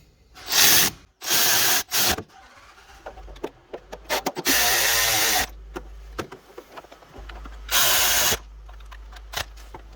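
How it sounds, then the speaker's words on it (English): Bolts being tightened on a 2007 Honda Odyssey water pump during a timing belt job: several bursts of power-tool whirring and ratcheting, close and loud, separated by short clicks and metallic handling noises, with no talking. "So there's really no order to tighten down these guys, so just tighten them down."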